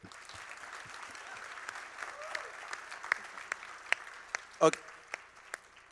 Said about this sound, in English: Can we give a round of applause for the courage?